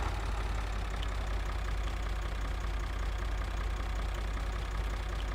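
Tractor engine idling in the video game Farming Simulator 2013, a steady low droning rumble that holds constant and alone for several seconds.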